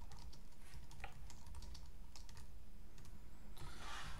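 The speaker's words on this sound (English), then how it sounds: "Just you type your question here." Someone types a test question on a computer keyboard: a quiet, uneven run of nearby key clicks with no talk.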